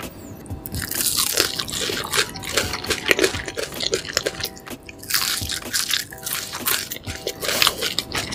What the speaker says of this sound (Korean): 치즈랑은 머스타드 찍어 먹을게